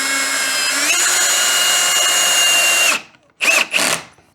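A cordless power drill whines steadily for about three seconds while boring a mounting hole for a home solar power system, then stops and gives two short bursts, loud and close with no talk.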